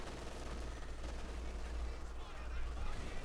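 Machine gun fire from a bunker in Company of Heroes 2 rattles in dense continuous bursts over a deep rumbling battle backdrop, with a commentator speaking over it.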